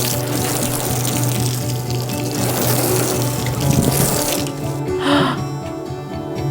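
Water sprayed against a newly installed skylight window to test it for leaks, a steady close hissing spray drumming on glass and frame, shifting slightly in intensity, with no talking.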